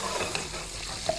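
Meat frying in a pan in a home kitchen, a steady broadband sizzle with a few brief stirring clinks, close and alone.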